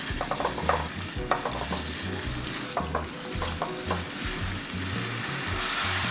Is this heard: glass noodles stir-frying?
yes